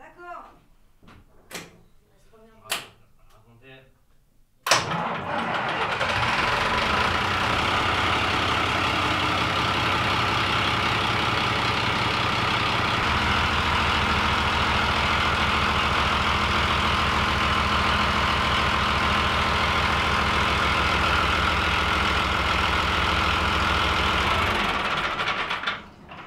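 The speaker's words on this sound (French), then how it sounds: "Les gars, je vais démarrer le moteur." After a few seconds of brief talk, the engine of the sailboat Fleur de Passion cranks to life and settles into a loud, steady idle that drones on until it cuts off.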